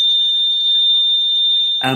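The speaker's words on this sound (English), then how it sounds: "it is a fire testing, the annual fire testing in the building they are doing today" A building fire alarm sounds during an annual fire test: a loud, steady, high-pitched electronic tone holds for nearly two seconds, then a voice starts speaking as it stops.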